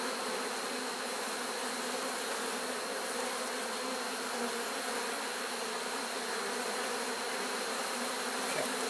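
Dense, steady buzzing of many honeybees around an open hive during a frame inspection, a continuous close swarm drone that holds evenly from start to finish with no talking.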